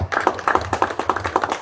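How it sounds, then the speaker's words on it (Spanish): Audience at a poetry recital claps in a sparse, irregular rhythm, individual hand claps clearly separated, moderately near and fading out after a short burst. "por favor, démosle un aplauso a él."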